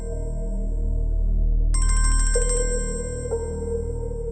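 A phone rings loudly up close with an electronic ringtone of bright, rapid warbling tones that rises over a low hum and then gives way to a softer sustained tone, with no speech.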